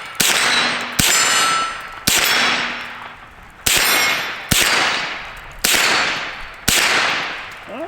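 Seven loud, sharp gunshots from a Henry Homesteader 9mm carbine ring out at steady intervals, each struck steel target answering with a ringing metallic clang that decays before the next shot.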